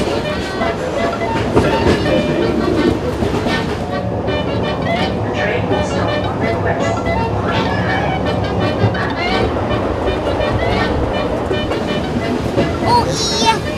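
Continuous rumbling and clattering of a cog railway train climbing on a toothed rack rail in Switzerland, loud and close, with a steady mechanical drone throughout.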